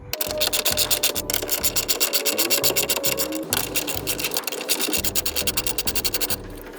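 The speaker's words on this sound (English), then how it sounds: "So first we need to loosen the bolts for the sway bar, and it's a 17 millimeter." Repeated scraping, ratcheting wrench strokes on 17 mm sway bar bolts of a DeLorean's suspension, a steady rhythmic rasp running continuously and fairly close, with brief pauses between bursts.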